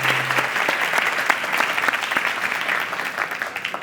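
An audience applauding a city vice-mayor at a live talk event, dense, sustained clapping from many hands, close and fairly loud throughout.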